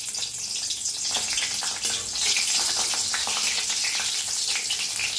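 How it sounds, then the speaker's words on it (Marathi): Green chilies roast in hot oil in a pan, giving a continuous bright crackling sizzle that swells slightly partway through, heard up close with no voices. "मिरच्या घेतलेल्या आहेत ते बी भाजून घेऊया तेलात"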